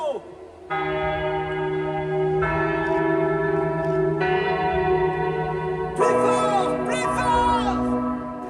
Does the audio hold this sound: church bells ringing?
yes